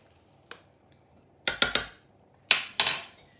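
A spoon scooping flour into a potato mixture in a bowl for potato pizza, one light tap followed by two clusters of quick scraping clinks against the bowl, close and fairly loud.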